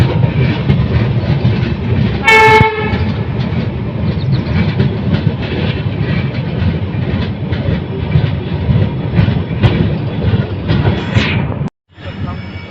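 Passenger train on the Pipariya to Chitradurga journey rolls through a hilly station area, a loud steady rumble and clickety-clack of wheels with a short horn blast early on, continuing until a sudden cutoff near the end.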